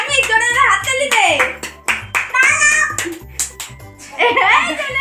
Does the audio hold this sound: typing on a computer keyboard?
no